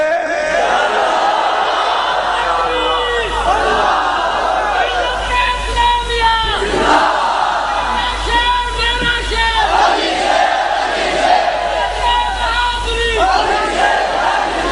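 A large crowd at a Muslim religious speech chants slogans in unison, loud, rhythmic waves of massed voices repeating together, with a lead voice calling out between bursts.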